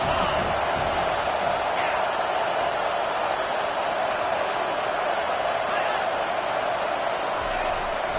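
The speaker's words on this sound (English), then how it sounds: "Decibels rising as the crowd gets behind this defense on 3rd down." Football stadium crowd roaring on a third down as the defense lines up, a dense continuous wall of cheering and noise, loud and unbroken throughout.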